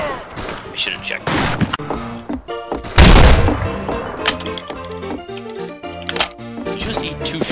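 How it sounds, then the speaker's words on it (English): Loud, close shotgun blasts from the Western shooter game Fistful of Frags, several sharp booming shots spread unevenly over a dense backdrop of game music and effects, with one especially heavy blast standing out. "Did you just eat two shotgun barrels in the face?"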